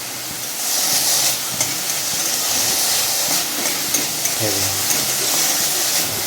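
Note shaak leafy greens frying in a pan give a steady, close sizzling hiss throughout, broken by a few soft stirring knocks.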